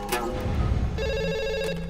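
A telephone ringing in an Indian action film scene, a short electronic ring that comes in sharply about halfway through, clear and close over a low background rumble, with no talking.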